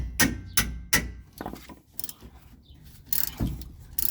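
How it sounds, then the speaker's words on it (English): A hammer knocks at stuck brake caliper bolts on a Chevy Silverado 1500 rear brake: a series of sharp metallic clanks, some quick and some spaced, close up with no talking. "so I like to just knock them loose with a hammer"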